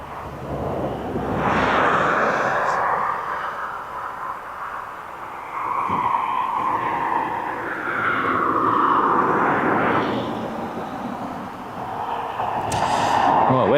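Jet airliner at East Midlands Airport, a broad, rolling engine roar that swells and fades in waves over several seconds, distant to mid-range and continuous.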